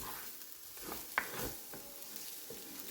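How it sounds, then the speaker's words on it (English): Garlic gently cooking in a pot, a soft steady sizzle with a few light clicks of stirring, close and quiet with no talking. "I'm just going to let that garlic cook for maybe 1 minute"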